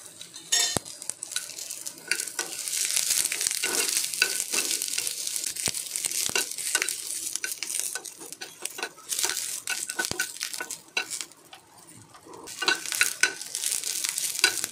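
Onion and garlic frying in oil in a pan, stirred continuously: a loud, close, crackling sizzle with frequent scraping and clinking of a spatula against the metal, easing briefly before picking up again.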